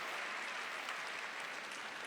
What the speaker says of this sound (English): So how about giving her a big round of applause?